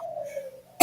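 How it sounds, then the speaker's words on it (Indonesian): A woman coughs once during a one-on-one coaching conversation, a short sharp burst arriving at the very end after a quiet, steady tonal background. "saya batuk"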